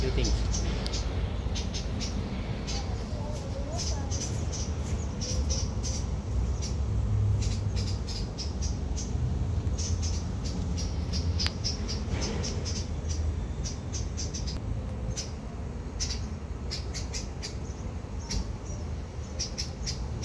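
Birds sing in a patch of forest in the middle of a Middle Eastern city, with sharp, repeated chirps scattered over a steady, dense bed of insect-like buzzing and distant ambient noise.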